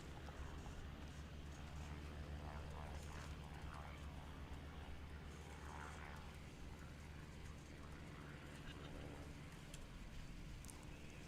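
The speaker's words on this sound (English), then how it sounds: "Some pretty impressive takeoffs here." Small STOL aircraft roar on takeoff runs at a short takeoff and landing competition, a steady loud engine and propeller drone mixed with wind and crowd murmur throughout.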